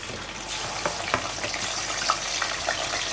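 Ginger garlic paste fries in hot oil with a busy, crackling sizzle, punctuated by a few sharp spits and stirring scrapes, close and steady with no talking.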